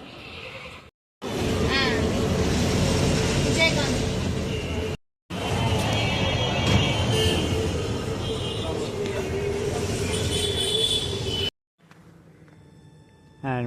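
Night city bus 70A bound for Avadi, its engine rumbling loudly in long stretches broken by brief cuts, with rattling and faint squeals and a quieter hum at the end.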